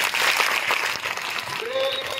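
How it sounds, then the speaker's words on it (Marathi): An audience at a retirement felicitation ceremony in Paranda breaks into brief, steady applause, with crowd murmur and a voice sounding faintly beneath the clapping. "टाळ्या वाजल्या पाहिजे त्या पोरीसाठी."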